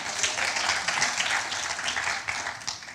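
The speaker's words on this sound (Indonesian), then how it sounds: "Oh tepuk tangan buat Tuhan." A church congregation claps for God during a sermon, a lively burst of many hands clapping with small surges and a slight fade at the end.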